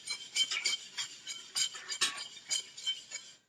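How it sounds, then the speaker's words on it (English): A mixture being whisked constantly in a bowl for Caribbean tembleque, a fast rhythmic metallic clinking and scraping of the whisk against the bowl, close and moderately loud, with no talking. "I'm whisking constantly."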